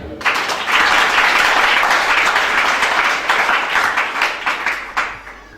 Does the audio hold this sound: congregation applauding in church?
yes